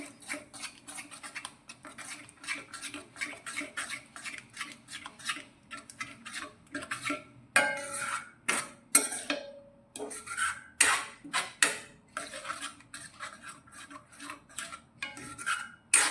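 A spoon scrapes and rasps against a pan while yogurt gravy is stirred over a low flame, in steady repeated strokes with a few louder clinks midway, close and alone without talk.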